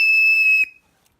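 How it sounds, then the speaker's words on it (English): A single sharp referee-style whistle blast sounds loud and close, holding a steady piercing tone for just over half a second before cutting off abruptly into silence. "Blow the whistle is right."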